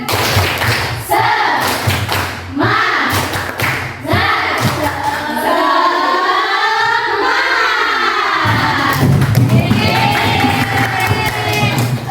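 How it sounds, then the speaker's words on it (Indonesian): A classroom group performs the tepuk semangat, a rhythmic clapping cheer, with loud sharp clap patterns and a teacher's voice calling out between them, ending in a burst of group shouting. "Kita coba ya. Tepuk semangat."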